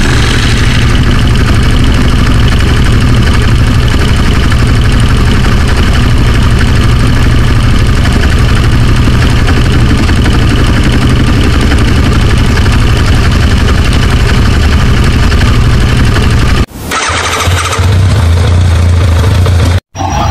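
A motorcycle engine idles in the Sakura School Simulator video game, a loud, steady low drone that holds unchanged for about seventeen seconds, then shifts and cuts out abruptly near the end.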